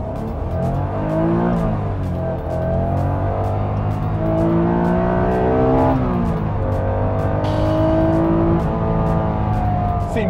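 A yellow Honda NSX drives and accelerates, its engine note climbing through the gears in loud, close rising sweeps with brief dips at each shift, running continuously throughout.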